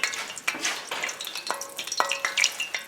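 Boneless chicken thighs coated in buttermilk fry in a pan over a moderately high flame, giving a steady close crackling sizzle with sharp pops and spits throughout.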